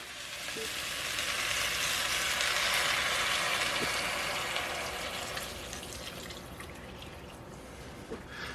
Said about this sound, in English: Then I'm going to add 4 cups of vegetable broth.